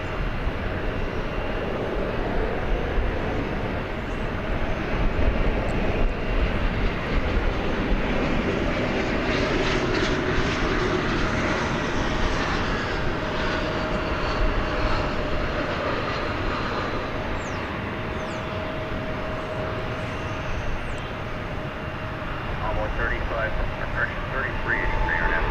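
American Eagle CRJ-701ER regional jet arriving at DFW airport in fog, a steady distant engine roar with a faint whine, continuous and fairly even throughout.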